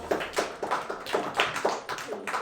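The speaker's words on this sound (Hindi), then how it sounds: "चलो ताली बजाओ।" Children clap together in a classroom after a story, about ten rhythmic, moderately close claps in steady unison, with no talking over them.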